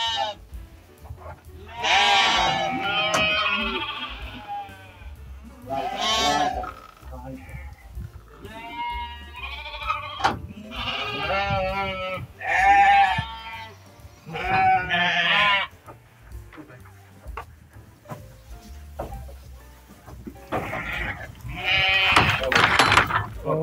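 Sheep bleat repeatedly at a herding dog training demonstration, with several loud, wavering calls overlapping one another at close range, and other animal noise scattered between them.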